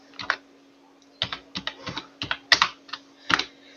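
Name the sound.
typing on a computer keyboard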